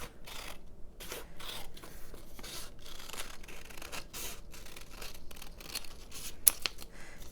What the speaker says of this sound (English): I'll just cut on one side and it should be good on both sides